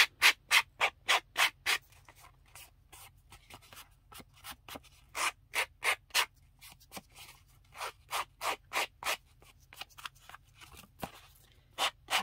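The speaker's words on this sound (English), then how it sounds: "take a nail file and just file around the edges and get all excess off" A nail file rubs around the edges of a paper Christmas tag in quick, regular rasping strokes, close and crisp, in bursts with short pauses between them.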